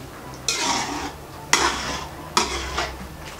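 A utensil stirs Balinese pork soto in a metal pot, three distinct scraping clanks spaced about a second apart, each trailing into a brief rustle, close and clear without speech.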